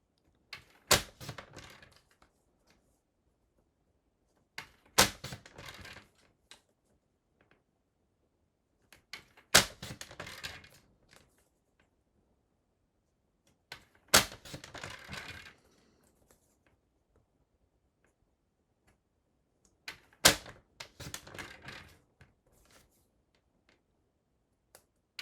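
Paper for a scrapbook Advent calendar being cut into strips on a paper trimmer, with sharp, close slicing and clicking bursts in about six evenly spaced groups separated by quiet pauses.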